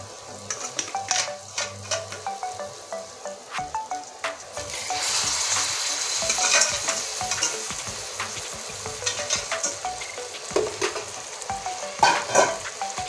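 Boiled taro leaves go into spices frying in a pan for a rui fish head and taro greens curry, with a loud sizzle and repeated scraping stirs that swell into a dense hiss midway.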